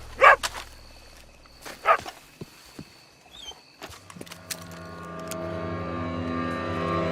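Dogs bark in a video game set in the American Old West, sharp separate barks near the start, followed by scattered clatter and a rising engine-like drone that builds steadily toward the end.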